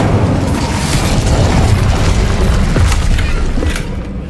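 A fiery spell burst cast with Incendio in Hogwarts Legacy, a loud, sustained whooshing boom that roars steadily for about four seconds before tapering off at the end.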